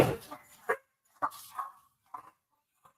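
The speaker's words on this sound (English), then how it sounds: "don't know if you can hear my dogs." Several dogs bark at a mail carrier delivering to the mailbox, giving a handful of sharp, separate barks with short gaps between them, fairly close and with no talk over them.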